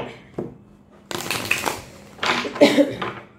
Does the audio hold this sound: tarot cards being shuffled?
yes